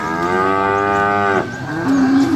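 A bull for sale in an Indonesian cattle market gives one long, loud, close moo, followed by a shorter low bellow.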